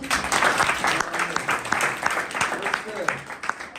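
Congregation applause at a church convention service in Chhindwara, a dense steady patter of clapping running the whole time with voices mixed in underneath.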